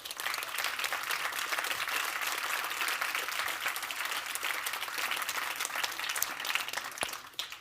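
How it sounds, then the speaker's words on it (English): A large audience applauds continuously at a Spotlight 2021 event, dense and even clapping from many hands holding steady at one level throughout. "let's give a round of applause for putting this together"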